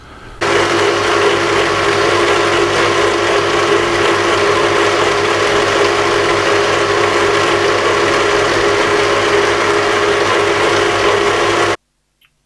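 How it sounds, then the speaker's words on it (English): A food mixer kneads white bread dough, a steady mechanical whirring and gear-grinding drone that runs continuously at constant loudness for about eleven seconds before cutting off abruptly. "once the dough has been in the food mixer for about 12 minutes and it's well worked"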